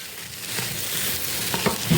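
Rice for khichuri frying in a pan, giving a continuous sizzle with occasional stirring scrapes near the end, fairly close, with no talking.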